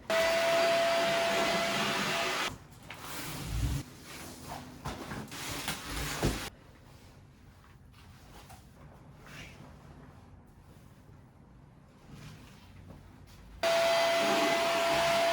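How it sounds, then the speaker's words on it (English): A vacuum cleaner working in an apartment drones loudly and steadily, falls away to quieter shuffling and handling noises, then roars back on near the end. "This needs a good vacuum."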